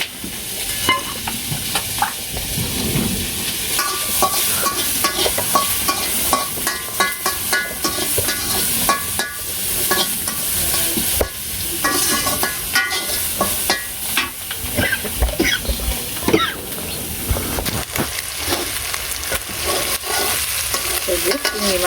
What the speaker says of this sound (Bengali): পেঁয়াজ আর একটু কাঁচামরিচ আর চিংড়ি মাছ একবার একত্রে দিয়ে দিলাম,